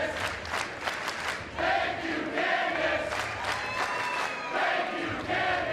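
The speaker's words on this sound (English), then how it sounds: "This crowd solidly behind her." Loud wrestling arena crowd cheering and roaring steadily throughout in a women's match between Lisa Marie Varon and Candice Michelle, with a brief whistle and some shouts standing out from the dense noise.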